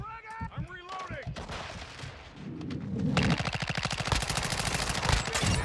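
Rapid automatic gunfire in a video game, bursts of clattering shots, with a voice talking over the start.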